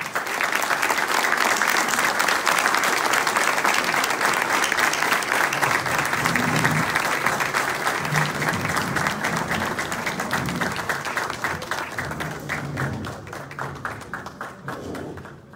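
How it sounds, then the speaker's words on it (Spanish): A large audience at a security summit gives a long, loud round of applause for a speaker, dense and sustained clapping that slowly thins out toward the end. "Les pido por favor un fuerte aplauso para el señor Aníbal."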